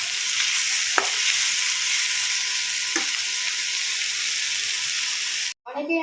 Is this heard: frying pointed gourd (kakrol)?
yes